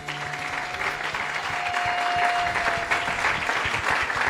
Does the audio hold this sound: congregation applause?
yes